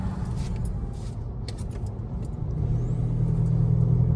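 Vehicle fitted with a 4JJ3 engine and a 4-inch DPF-back stainless steel diff dump exhaust, heard from inside the cabin as a steady low engine drone that swells louder as it accelerates around a corner, with no talking.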